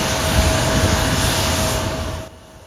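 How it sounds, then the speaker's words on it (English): An E-170 jet takes off from an airport with a loud, broad engine roar and a thin steady whine that holds, then drops off sharply near the end. "The plane, an E-170 jet, smoothly took off from the airport around 2:30 p.m."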